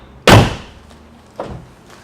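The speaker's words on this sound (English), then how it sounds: "love the way the door shuts nice and solid." A Porsche 997 Turbo car door shuts with a single solid, close thud, followed a second later by a softer second closing thump.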